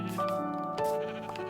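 Sheep in Minecraft Bedrock bleat in a few wavering calls, moderately loud and close, over steady in-game background tones.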